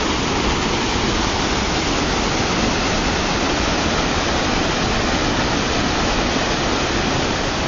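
Steady, loud roar of river water rushing and churning where it emerges near a natural bridge among hexagonal lava formations at Newberry Crater, a continuous broadband wash with no talk.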